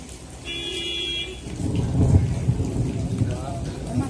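Steady rain during a monsoon downpour with a low rumbling swell of thunder, broad hiss and roar building midway and continuing, a faint brief tone heard early on.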